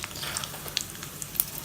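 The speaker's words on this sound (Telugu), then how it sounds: "ఇదే నూనెలో తాలింపు వేసుకోవాలి" Chana dal and mustard seeds tempering in hot oil left from frying bitter gourd crackle and sizzle close by, with scattered sharp pops over a low hiss and no voices.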